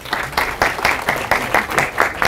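Applause from a school teachers' gala audience at a physical education event, welcoming a middle-school PE teacher to the stage. Bursts of close clapping come in quick, regular pulses over a brief span.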